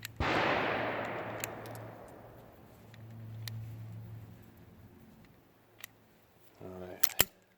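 An Enfield No2 Mk1 revolver is fired outdoors: one loud, sharp report with a long fading tail, then a few fainter cracks and a quick pair of shots near the end.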